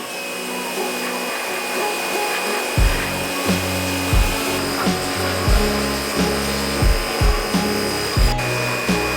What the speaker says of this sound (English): we're going to give the frame a nice wash with the pressure washer